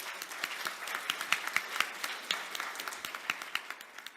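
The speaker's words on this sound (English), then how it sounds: "They're not clapping me, Amy. They're clapping you" Scattered audience clapping at a Manchester startup event, a moderate crowd applauding with uneven individual claps, steady for several seconds at mid distance.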